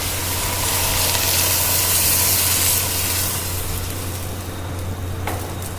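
Cider poured into a hot pan holding a seared pork joint and cooking mirepoix sizzles and hisses steadily and fairly loudly, the hiss easing slightly toward the end.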